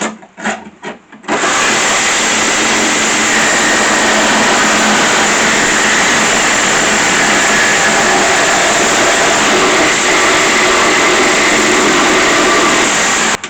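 An angle grinder cuts through a car body, starting after a brief pause with a loud, steady, high-pitched grinding whine and rasp that runs unbroken to the end.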